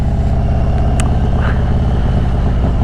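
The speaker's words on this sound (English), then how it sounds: "Slowly let off that clutch. Give it a little gas to kind of guide it." A motorcycle pulls away in first gear as the clutch is let out, its engine a steady, loud, close drone with a brief higher tone partway through and no talk.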